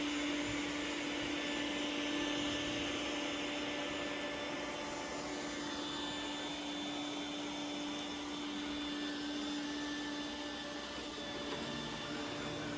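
An iRobot Roomba S9+ robot vacuum runs steadily nearby, a loud constant whir with a fixed tonal hum and motor drone that holds throughout with no speech.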